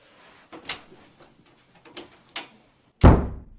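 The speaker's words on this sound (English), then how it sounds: "there's the door" A door thuds shut with a loud, solid slam near the end, after a few softer scattered knocks and clatters.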